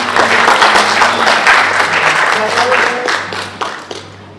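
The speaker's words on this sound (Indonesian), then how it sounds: "Tepuk tangan teman-teman semua." An audience at an alumni association meeting claps in thick, steady applause that is loud at first and tapers off toward the end, with faint voices mixed in.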